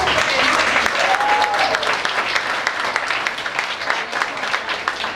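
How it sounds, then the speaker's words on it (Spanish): Church congregation members clap for themselves at a Sunday service, a loud, close burst of many hands that starts strong, thins gradually, and has a few voices mixed in beneath. "Vamos a darnos un aplauso a nosotros mismos."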